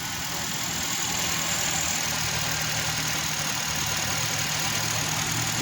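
Nissan Tiida Latio sedan engine idling: a steady, even hum with a faint low rumble, continuous and unchanging, with no voices.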